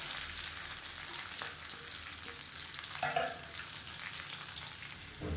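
Sliced onions and mint leaves frying in a pan for masala rice, a continuous soft sizzle with occasional stirring scrapes, fairly quiet and heard alone.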